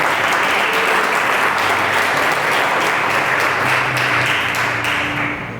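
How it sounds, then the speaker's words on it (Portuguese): A church congregation applauds after a Bible reading from Proverbs, dense loud sustained clapping filling the room at an even level before easing slightly at the end, no talk over it. "Vamos aplaudir a palavra do Senhor?"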